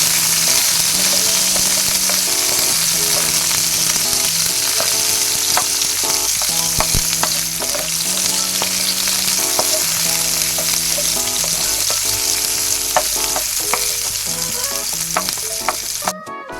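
Chopped onions hit a hot pot for chicken nilaga and keep frying with a loud, continuous sizzle and crackle, with occasional stirring clinks, all under a faint steady tonal background.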